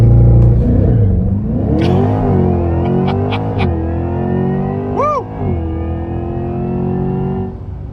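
A 2024 Corvette E-Ray accelerates hard on a race track, its loud, near engine note climbing and holding through gear changes with a brief dip partway, heard from inside the cabin.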